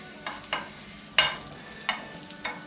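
A tortilla wrap cooking in a pan over a low flame, faint background sizzle broken by several soft scraping or pressing sounds spaced unevenly, close and quiet, with no talk.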